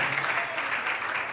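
A church congregation applauds in praise, a dense, steady wash of clapping hands filling the room for the whole moment with no break.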